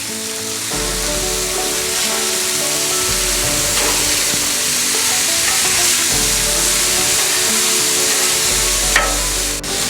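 Kobe beef smashburgers and Tabasco sausage sizzling on a hot cooking surface, a loud, continuous close frying hiss with a steady low hum beneath and no talk.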